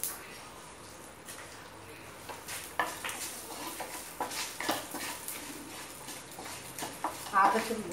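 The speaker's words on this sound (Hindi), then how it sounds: "इनको मैं अच्छी तरह मीडियम गैस पर भून लूंगी।" Dry red chillies and cumin seeds roasting in a pan over a medium gas flame, with repeated spoon scrapes and metallic clinks against the pan and a faint sizzle throughout, sharper clatter near the end.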